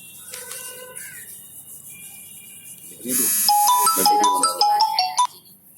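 A phone ringtone plays a bright electronic melody for a couple of seconds, loud and close, after some quiet background sounds.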